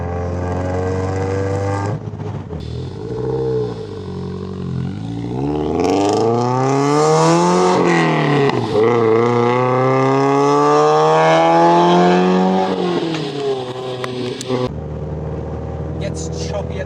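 Subaru BRZ with an aftermarket exhaust revving, a loud, close engine note climbing and falling in pitch through several rev sweeps, turning choppy at higher RPMs.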